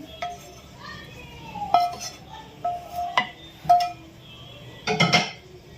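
Fried peanuts go into a radish chutney in a home kitchen with several sharp metallic clinks of a spoon against a pot, ending in a short rattling clatter as the nuts drop in.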